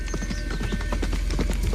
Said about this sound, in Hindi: तभी उनका घोड़ा अचानक काले जंगल के अंदर भागता है।